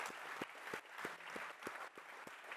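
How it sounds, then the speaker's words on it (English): An audience at an AI-at-work panel event applauds as panelists and a moderator join the stage, a brief burst of dense crowd clapping with a few sharper individual claps standing out in a steady rhythm. "we'll clap for our panelists and our moderator as they join"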